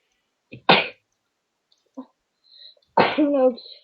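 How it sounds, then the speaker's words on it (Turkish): A sharp sneeze breaks a quiet moment, followed by a voiced exclamation or short vocal burst a couple of seconds later. "Hapşırdım ama."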